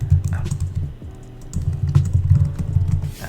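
Someone types on a computer keyboard while entering Thai captions in Final Cut Pro X, with quick close clicking keystrokes in uneven bursts and a short pause around the one-second mark.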